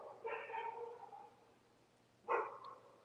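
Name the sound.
dog barking on the road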